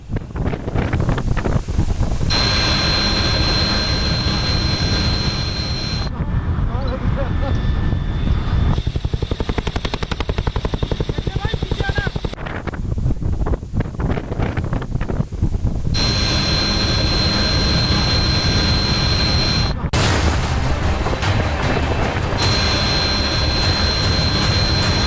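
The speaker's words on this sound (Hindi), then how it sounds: "आपको चिनूक ट्रांसपोर्ट हेलीकॉप्टर का ऑपरेशन दिखा रहे हैं रात के वक्त।" A Chinook transport helicopter operating at night at an Indian Air Force base roars loudly and continuously, its heavy engine and rotor noise mixed with wind buffeting the microphone.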